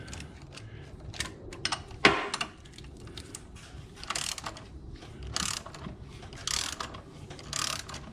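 A ratchet turns a bolt on the right engine mount of a 2004 VW Golf 2.0, in repeated bursts of close mechanical clicking and one sharper metallic clank early on.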